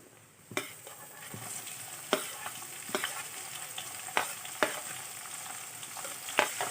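Green chilies fry in a hot pan with mustard seeds and cumin, giving a steady sizzle broken by sharp crackles and stirring scrapes at irregular intervals, close and fairly loud.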